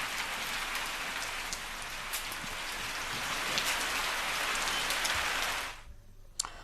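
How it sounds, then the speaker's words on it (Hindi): Heavy rain falls steadily, a dense close hiss of drops hitting surfaces that holds even, then cuts off abruptly near the end, leaving near silence. "तेज हवाओं के साथ बारिश की शुरुआत हो गई है।"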